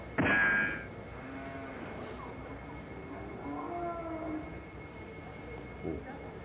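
A herd of cattle at a cutting horse event, a loud burst at the start followed by low lowing moos and faint mooing tones in the middle, set against a steady background hum.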